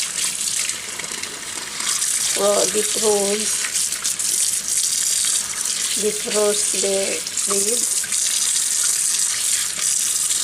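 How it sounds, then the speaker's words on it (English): Hot tap water streams steadily into a sink to wash and defrost frozen vine leaves for koupepia, someone talking over the running flow in short bursts. "Or you can wash with hot water to defrost."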